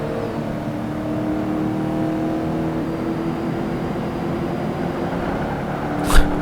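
A racing car's engine drones steadily and close in Project Gotham Racing 2 on Xbox, holding a sustained whirring pitch with a brief sharp burst near the end and no talk.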